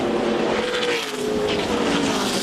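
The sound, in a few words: NASCAR race cars racing, crash in final corner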